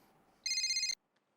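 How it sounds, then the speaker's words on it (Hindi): A telephone rings once as a short, bright electronic tone burst of about half a second in an otherwise quiet indoor room. "ओ, विनोद भाई का फोन है"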